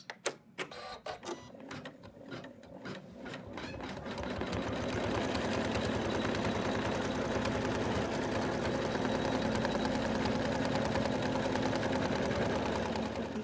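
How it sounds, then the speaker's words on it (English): An in-the-hoop embroidery machine stitches the placement line for a Santa's beard and hat rim, starting with a few sharp separate clicks, then settling into a fast, even, rattling needle rhythm that runs steadily and close up. "So it's going to do the placement line for the beard and the rim of the hat."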